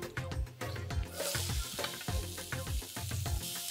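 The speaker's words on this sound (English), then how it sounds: "A little bit more oil in there. Then we get our onions in." Onions frying in oil in a pan for beef masala curry, a close, steady sizzle punctuated by rhythmic scraping and stirring strokes, loud and continuous with no talk.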